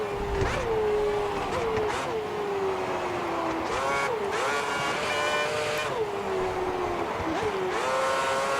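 An F1 car engine screams through a dry qualifying lap in F1 2010, high-pitched and sustained, dropping sharply with each downshift before climbing again, repeated several times over the lap.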